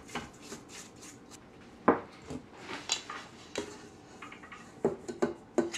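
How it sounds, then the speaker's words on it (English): A spatula scraping down the walls of a mixing bowl of gluten-free Linzer cookie dough, with soft irregular scrapes and light taps against the bowl, close and quiet. "I'm going to scrape the walls down one more time."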